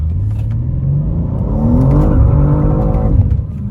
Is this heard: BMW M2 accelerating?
yes